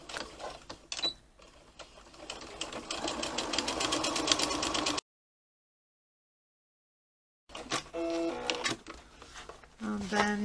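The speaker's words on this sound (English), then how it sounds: "then sew all the way around" A sewing machine stitches fabric pieces for a lilac messenger bag, its rapid needle chatter running continuously, cutting out into a silent break, then starting up again.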